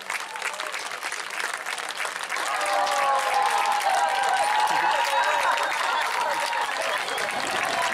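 A crowd at a high school regional track race, a 3A boys' 1600 m run, applauding and cheering runners home, dense steady clapping with shouts that grows louder and fuller partway through.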